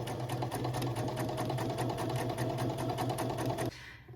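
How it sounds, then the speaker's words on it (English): A sewing machine stitching fabric with elastic thread for shirring runs in a steady rapid whir of needle clatter, close and loud, stopping abruptly just before the end. "And then go ahead and start sewing your first line."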